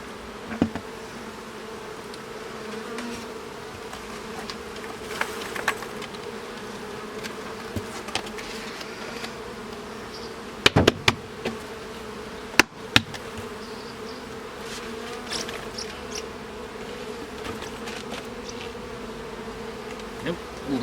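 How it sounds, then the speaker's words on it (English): Honey bees fly in confusion around stacked nuc boxes after the entrance has moved, their steady multi-layered buzz continuous and close, with a few brief knocks and clicks breaking through. "the bees in the bottom nuke don't know where the new entrance is, so they're all kind of flying around at the moment"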